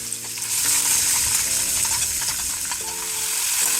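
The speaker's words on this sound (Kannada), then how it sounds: "ಈ ರೀತಿ ಒಗ್ಗರಣೆಗೆ ಹಾಕಿ ಇದನ್ನು ಸ್ವಲ್ಪ ತಾಳಿಸ್ಕೋಬೇಕು" Vegetables for Koulikayi (Carissa) pickle sizzle and crackle steadily in hot tempering oil, a continuous close frying hiss with faint clinks of stirring.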